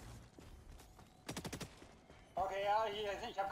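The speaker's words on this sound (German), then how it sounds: "Hier sieht man irgendwie eine Explosion aus meiner Knarre, wenn ich damit schieße." Gunfire from a weapon in the video game Helldivers 2: a quick burst of several sharp shots, then a louder crackling explosive blast, heard over faint background game noise.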